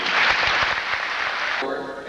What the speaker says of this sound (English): How about a round of applause for those people?